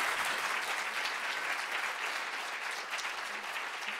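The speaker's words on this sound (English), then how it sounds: "maybe if we can give Carol and Karen a nice round of applause." An audience at an author event claps together in a steady, sustained round of applause, fairly far off and even in level, with no talking over it.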